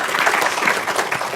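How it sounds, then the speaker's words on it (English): Steady applause from a conference audience fills the room, a dense, continuous wash of many hands clapping with no pauses, loud and close throughout. "Round of applause for them"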